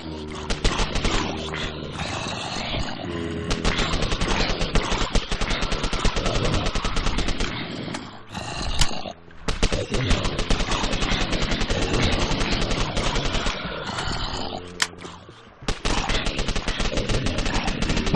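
Rapid automatic gunfire in the video game Zombiecraft, dense, continuous bursts of loud shots that stop in brief gaps before resuming, with some talk mixed in.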